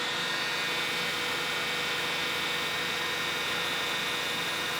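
A wood lathe spins a pen blank at 2500 RPM while its CA finish is polished with Yorkshire grit, giving a steady, continuous whirring hum with a broad airy hiss that holds level throughout, with no talk.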